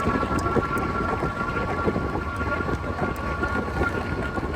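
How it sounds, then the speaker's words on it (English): Steady wind noise buffets the microphone of a Mokwheel Asphalt ST e-bike riding at about 18 mph, a constant broadband rush with low rumble, loud and unbroken, with a faint tonal hum underneath. "it's getting windy"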